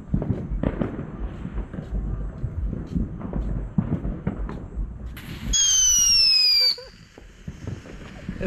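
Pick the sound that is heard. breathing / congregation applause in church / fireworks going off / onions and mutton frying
fireworks going off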